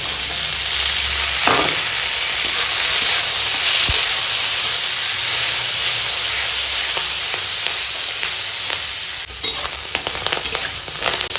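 Spring onion stalks frying in oil in a pan with onion and slit green chillies produce a loud, steady sizzle and steamy hiss, punctuated by occasional clinks and scrapes of stirring.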